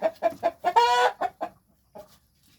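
A chicken clucks nearby in a quick run of short notes, one drawn-out squawk in the middle, then a final faint cluck.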